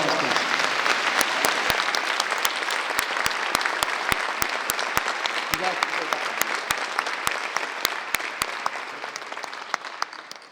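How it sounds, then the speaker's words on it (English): Sustained audience applause at a public safety awards ceremony, dense steady clapping from a large crowd with some sharper individual claps standing out, gradually tapering toward the end with no talking. "Another round of applause, please."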